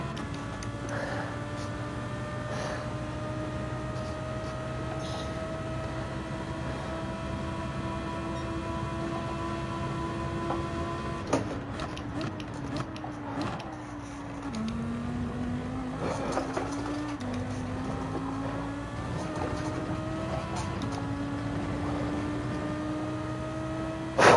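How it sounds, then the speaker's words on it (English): A V10 race car engine in Gran Turismo 7 during GT3 Open lobby sprint racing roars steadily for a long stretch, with pitch rising and dropping through gear changes and throttle shifts, a continuous close engine drone without talk. "listen to that noisy V10 engine roar on the straight"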